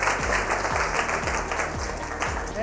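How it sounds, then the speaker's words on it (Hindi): A studio audience at an Eid special with street children claps after a recited couplet, a continuous wash of hand claps under a low rhythmic hum, fairly loud and steady for the whole moment. "तालियां होनी चाहिए"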